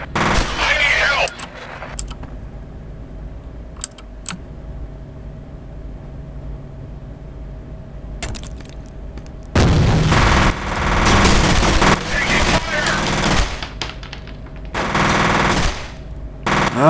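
Bursts of automatic gunfire in the shooter game F.E.A.R., loud rattling volleys separated by quieter stretches of low game ambience, with a few sharper single shots early on.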